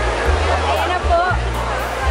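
Trevi Fountain in Rome pours water in a steady, loud rush of splashing and churning, continuous throughout with a low hum running beneath it.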